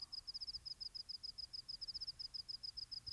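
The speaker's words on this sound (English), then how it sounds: "So what you're hearing is a cricket song." Cricket song from a male rapidly closing his wings, a rapid series of high, thin, evenly spaced chirping pulses, faint and alone over low background hiss.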